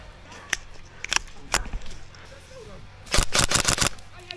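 Video-game gunfire crackles in sharp bursts: a few single shots early on, then a rapid cluster of loud cracks near the end, with voices talking faintly in between.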